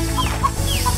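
Chickens clucking in a coop with an anaconda present, a quick burst of close, loud clucks over steady background noise.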